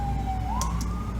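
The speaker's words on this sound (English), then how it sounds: "if you hear emergency vehicles" Emergency vehicle siren outdoors, a single wailing tone gliding down then rising again, moderately distant beneath a low rumble of background noise.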